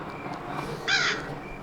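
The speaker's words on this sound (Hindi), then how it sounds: "कौवा वो रहा, शर्ट की लेके बैठा हुआ है।" In the Granny video game, a crow gives one short, sharp caw mid-clip, standing out clearly against a quiet background with no voices.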